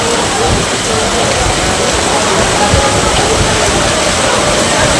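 Floodwater rushes steadily through streets after heavy rain in Gujarat, a loud, dense, continuous roar with no pauses.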